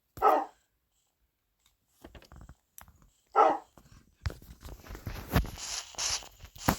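Dog in the Minecraft video game giving two separate short barks a few seconds apart, clear against near silence, with soft game sounds around them.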